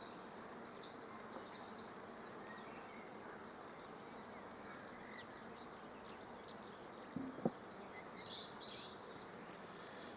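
Honey bees buzz as a hive is opened by a beekeeper, a steady low insect drone filling the scene with higher whines from individual bees passing close, a couple of brief knocks near the end.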